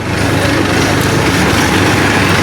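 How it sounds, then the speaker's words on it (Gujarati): A tractor engine runs close by, a loud, steady rumble with no pauses. "જુઓ તમે આવી ગયું ટ્રેક્ટર"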